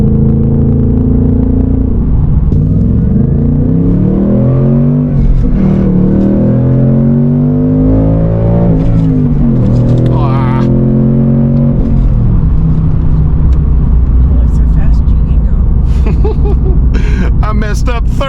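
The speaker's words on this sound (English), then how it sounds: "I'm gonna gear down so you can hear the rev matching." A 2024 Ford Mustang GT V8 heard from inside while downshifting out of fifth gear, with loud rising and falling engine revs and sharp rev-matching blips, steady and close throughout.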